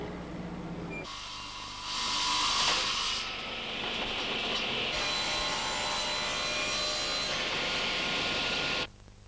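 Wood for a Seiler piano cabinet is machine-cut in a workshop. After a short pause a loud, steady whining saw starts, its pitch shifting as the blade bites, and then it stops abruptly near the end.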